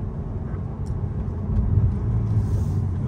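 A 2017 Ferrari 488 GTB rolls along a street at low speed, its engine a low, smooth rumble that swells slightly partway through, steady and close with no talking.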